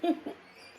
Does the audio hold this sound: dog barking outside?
yes